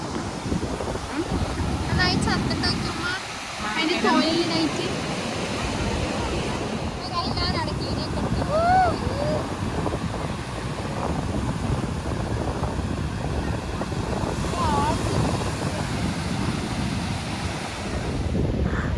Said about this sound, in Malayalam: ഞങ്ങൾ ധാർനേറ ബീച്ചിലേക്ക് ഇറങ്ങിയിട്ടുണ്ട് നല്ല കാറ്റുണ്ട് കേട്ടോ